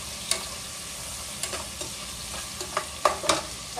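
Hot oil sizzling in a frying pan while cooking pinakbet, a steady crackling hiss with scattered sharp pops and spatters, close and moderately loud, no voices.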